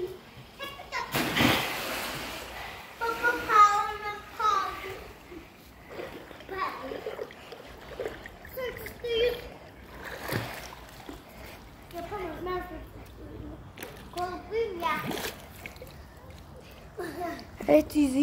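Children splashing while swimming in a pool, irregular watery splashes and sloshes, with a big splash near the start, under near-constant excited kids' voices talking and calling out.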